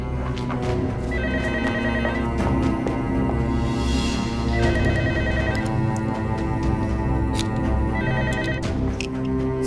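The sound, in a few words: telephone ringing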